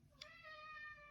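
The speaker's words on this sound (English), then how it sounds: "there's my cat wanting to help narrate" A house cat gives one short, faint meow that rises and then trails off, heard alone in a quiet room.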